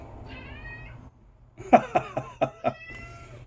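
A cat meows close by, a short cry followed by a series of rapid, insistent meows and chirps.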